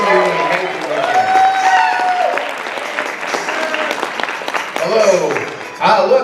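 A convention crowd at the opening ceremony of a Doctor Who fan event applauds and cheers loudly for several seconds, with whoops and voices rising through the dense clapping.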